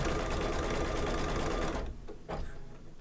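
An embroidery machine stitching an in-the-hole pizza slice mug rug runs at a steady, dense mechanical whir, then winds down and stops partway through, leaving a couple of fainter rattles.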